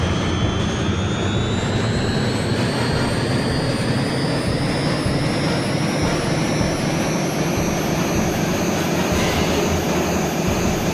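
A Harrier jet's engine roars steadily in the video game Eagle One: Harrier Attack, a loud continuous turbine rush with a high whine that slowly climbs in pitch.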